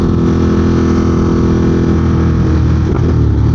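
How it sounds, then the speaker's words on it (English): A motorcycle engine lugging in sixth gear at low revs, a deep, labored, steady rumble with slight fluctuation, loud and close, no talking. "In 6th gear, the revs dropped enough that the motor was getting luggy."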